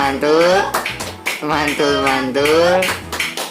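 A group in a community training session does a rhythmic patterned clap, sharp claps punctuating loud voices that chant along in time.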